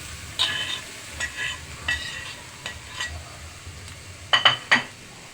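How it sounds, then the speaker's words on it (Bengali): Grated coconut frying in a wok over medium-to-low heat. A faint, soft sizzle sits under a few sparse scrapes and light metallic clinks of a spatula, ending with a quick cluster of clinks. "এখন আমি নারিকেলগুলো ভেজে নেব"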